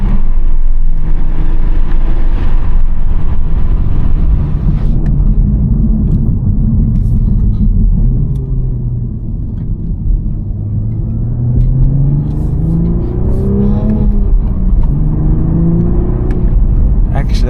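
2024 Toyota GR Supra A91 with a manual gearbox and 390 hp engine, heard driving: a steady loud engine drone with gradual pitch rises as it accelerates through gears, close and continuous.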